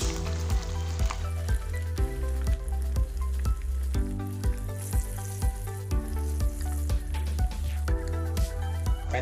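Battered century egg pieces dropped one at a time into hot oil sizzle steadily, under rhythmic background music with a regular beat.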